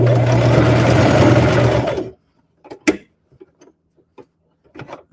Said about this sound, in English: I stopped my machine and picked up my foot.